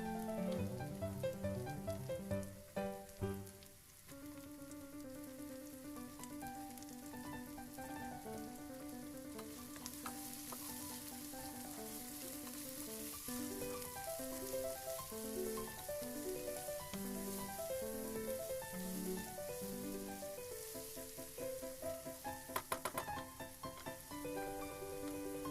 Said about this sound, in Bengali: ভাজতে ভাজতে পেঁয়াজগুলো একটু হালকা রঙের হয়ে গেলে এবার দেব সরু সরু করে কেটে রাখা গাজর এবং বিনস।